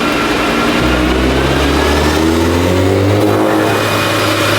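A Volkswagen Jetta GLI with a catback exhaust and intake runs on a dyno, its engine loud and close as it climbs through a sustained rising rev for several seconds, then eases slightly at the end.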